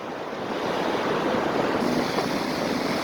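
Ocean surf rolling onto a South African beach, a steady broadband wash of breaking waves that swells slightly louder midway, with wind buffeting the microphone and no voices.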